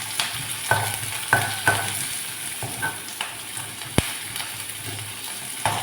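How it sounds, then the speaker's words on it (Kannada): Onion and green chili frying in a pan, a steady sizzle with repeated sharp clicks and scrapes of stirring, close and moderately loud. "ಈಗ ನಮ್ಮ ಪಾಡ್ದು ಎಡ್ಡೆ ಮತ್ತು ಫ್ರೈ ಮಾಡ್ಬೋದ"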